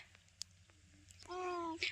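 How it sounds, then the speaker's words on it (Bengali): A cat meows once, a short rising cry near the end, close by, after a few faint clicks and rustles. "ওই এনা বিড়াল কি করে দুধ খায়?"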